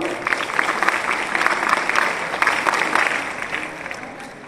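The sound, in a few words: students clapping in scout style to welcome guest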